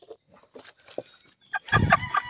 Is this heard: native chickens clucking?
yes